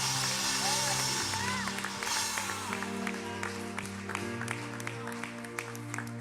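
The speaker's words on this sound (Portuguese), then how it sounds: "Você pode aplaudir ao Senhor?" Congregation at a Portuguese-language church service clapping in praise, a moderate clatter of hands beneath sustained music and tones, with a voice briefly heard over it.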